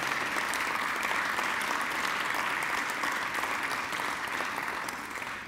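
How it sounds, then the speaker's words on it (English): Sustained, dense applause from a large audience fills the hall at a graduation ceremony, a steady loud wash of clapping that eases slightly at the very end. "I invite you to give them a mighty round of applause"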